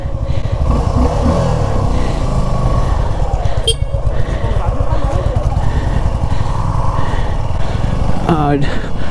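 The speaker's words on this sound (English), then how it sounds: "test riding V-Strom 250" A Suzuki V-Strom SX 250 adventure-tourer motorcycle runs on a test ride, its engine droning steadily and loudly throughout with a rough, buzzing pulse and a brief clatter near the end.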